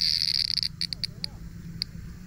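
A cicada in a Japanese park at night gives a close, rapid buzzing trill, then a few short separate chirps spaced apart, over faint background murmur.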